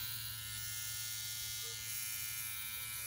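A tattoo pen machine runs at about 6.5 volts, set up for line work, giving a smooth, steady, continuous electric buzz close by.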